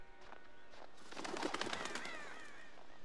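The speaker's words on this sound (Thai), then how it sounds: "อีกามึงจะเยอะไปไหนวะ" Crows calling in the woods of the horror video game Until Dawn, a busy chorus of bird cries overlapping at a moderate distance, with no talking.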